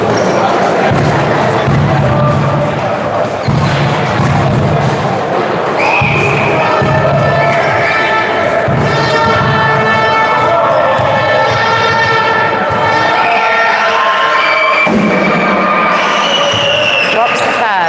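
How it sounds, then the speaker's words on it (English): Basketball crowd at an MK Breakers versus Yorkshire Dragons game roaring loudly during free throws, dense sustained cheering and shouting with ball bounces and thuds underneath, close and very loud throughout. "the crowd are going nuts each time they do a free throw"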